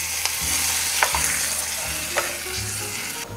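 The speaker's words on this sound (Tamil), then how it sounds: "இப்போ நம்ம தயார் பண்ணப்பட்ட தாளிப்பை மோர் குழம்புல சேர்த்துடலாம்." Hot mustard-seed tempering with curry leaves hits a buttermilk curry (mor kulambu) with okra, giving a loud, steady close sizzle with a few small pops and stirring knocks and no voices.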